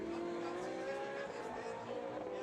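Two race cars running side by side in the Trofeo Pirelli series at Le Mans, a loud sustained engine whine from on-board with a rising pitch as they accelerate together.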